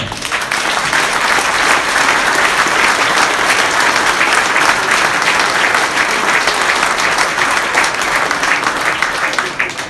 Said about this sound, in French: Ils méritent là aussi vos applaudissements.